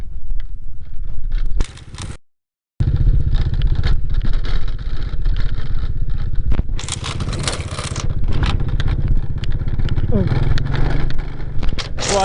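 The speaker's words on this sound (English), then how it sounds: "this motorbike's so great, the Honda Dream, like, it's so strong" A Honda Dream motorbike rides slowly over rough, rocky terrain near a dry stream bed, its engine droning steadily under scraping and clattering, with a brief cutout, while people talk throughout.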